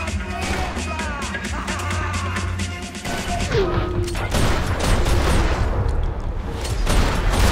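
Gunfire in the video game Max Payne 3, with rapid loud shots, crashes and impacts stacking into dense bursts of battle noise that fill the whole stretch, near and harsh.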